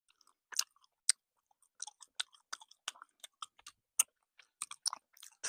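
Frozen jelly candy being chewed close up: crisp, crunchy bites and squishy mastication in irregular bursts, with no talking.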